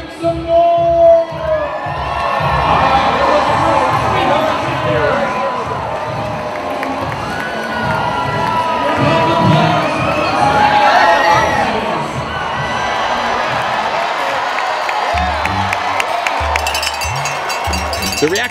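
A large crowd of fans at a game cheers and shouts loudly and continuously, a dense roar of voices with whoops, over a steady thumping beat and music.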